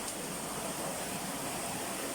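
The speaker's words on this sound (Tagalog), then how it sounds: "Ayun yung ilog, lakas." A strong river rushes past in a continuous close roar of churning water, steady and even, with no other sounds.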